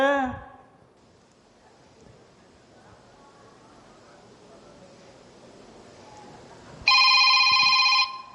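A telephone rings in one loud, bright electronic burst near the end, after a brief voice at the start and a long stretch of quiet room tone.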